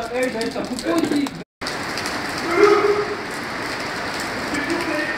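Steady rain falls outside at the flood-hit Malherbe rescue centre, a dense hiss throughout with a brief dropout, while a voice talks over it.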